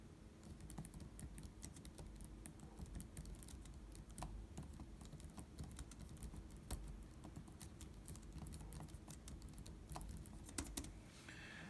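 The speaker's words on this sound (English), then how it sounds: "So I'll just type a little bit so you can kind of hear it." Typing on the keyboard of a Google Pixelbook laptop: a steady stream of soft, close key clicks alone, with a few louder taps near the end.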